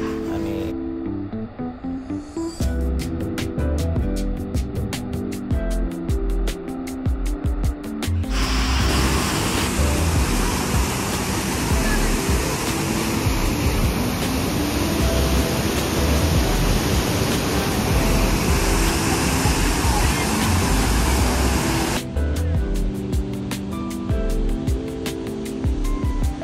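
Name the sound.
waterfall at Bhandardara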